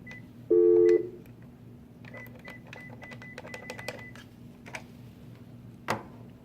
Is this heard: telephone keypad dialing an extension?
yes